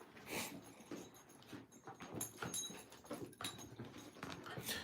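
A pet dog whimpers and whines indoors while playing with a toy, faint, broken cries with small scuffling noises throughout.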